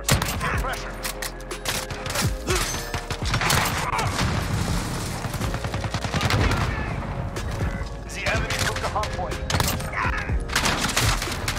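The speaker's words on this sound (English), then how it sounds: "Oh my gosh, it's the shotgun, dude." Rapid overlapping gunfire bursts from a Modern Warfare multiplayer match, including shotgun blasts, loud and continuous with booms mixed into game noise and talk.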